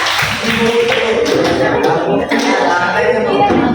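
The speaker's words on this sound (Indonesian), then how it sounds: "tepuk tangan nih buat adik ini ya" A school class claps briefly amid chatter and a chuckle, the applause loose and uneven under voices.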